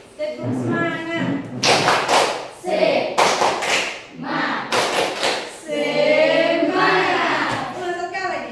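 A group claps out a rhythmic spirit clap in unison, sharp patterned bursts of hand claps alternating with chanted voices, close and lively, with people talking and calling along throughout.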